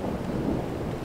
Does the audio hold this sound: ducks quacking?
no